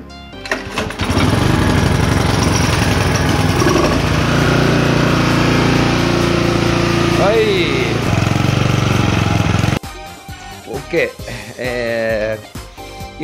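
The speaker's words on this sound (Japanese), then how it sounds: "ではエンジンリコイル引いてみましょう。" A grass cutter's small engine is recoil-started and catches at once. It runs loud and steady with a buzzing drone for about eight seconds, then cuts off abruptly, and someone talks over the quiet clatter of handling.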